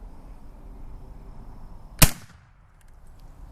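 A single sharp, loud crack from a cheap Gewehr 88 rifle fired at an outdoor range, quick decay and short echo tail, with quiet background before and after.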